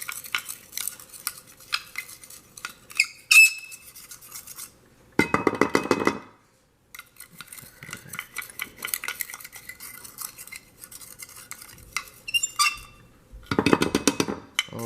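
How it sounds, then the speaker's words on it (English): A metal utensil stirs and scrapes a sugar rocket fuel mixture in a container, producing repeated close clinks and scraping bursts with a few short pauses. "Okay, so now we're going to just stir it, and I'd recommend stirring it for about 5 minutes"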